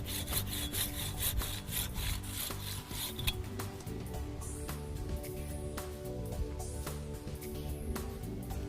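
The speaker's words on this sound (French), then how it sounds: "passez alors à une scie à élaguer" A pruning saw cuts through a tree branch in quick, regular back-and-forth strokes, a close rasping rhythm that continues throughout.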